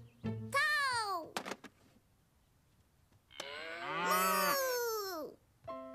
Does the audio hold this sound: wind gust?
no